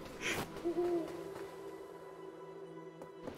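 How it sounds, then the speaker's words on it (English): Owl in Death's Door hooting once, a short tonal call near the start, followed by a quiet, still ambience with a few faint soft knocks. "I'm also hearing an owl here"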